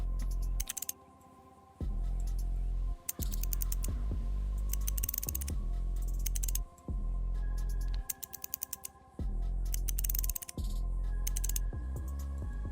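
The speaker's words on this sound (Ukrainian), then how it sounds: "Затискаємо на болти, викручуємо їх всі швиденько по черзі." Game sounds from a screwdriver minigame unscrewing bolts in GTA 5 roleplay: rapid bursts of mechanical clicking repeat in a steady pattern over a constant electronic drone, loud and close throughout.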